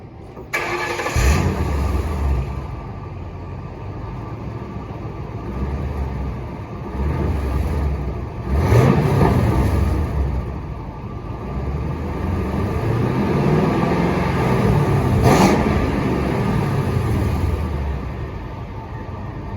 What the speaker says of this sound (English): I'll go ahead and start it up and see what happens.